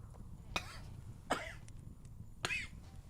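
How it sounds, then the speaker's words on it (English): A person coughs three separate times, each a sharp, close burst with quiet pauses in between. "I apologize for the coughing."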